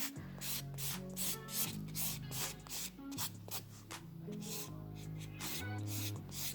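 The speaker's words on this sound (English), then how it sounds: "I'm just going to buff over this nail just so you can see you can do either or" Buffing a fingernail to take off its surface shine, a close, quiet series of rapid rhythmic rubbing strokes with brief pauses, no talk.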